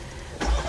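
A 2023 Chevrolet Corvette Z06 engine cranks and catches at a dealer auction, a short low burst rising abruptly after a quiet moment and rumbling loud and close.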